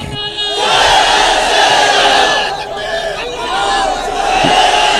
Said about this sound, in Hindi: तो जोर से नारा लगाइए